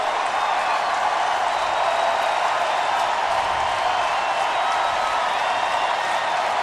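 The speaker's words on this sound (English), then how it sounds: "Chris Kleiman getting this crowd fired up." A football stadium crowd roars at a 2015 FCS quarterfinal between Northern Iowa and North Dakota State, a dense, steady wash of cheering and clapping that holds at the same level throughout.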